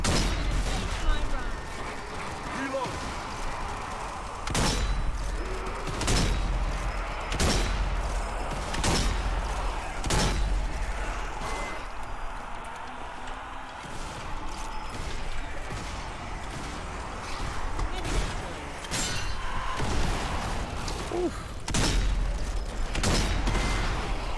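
Sniper rifle fire in the zombie shooter Zombie Army 4: Dead War, loud repeated sharp shots at irregular intervals over a dense game soundscape, with someone talking at times.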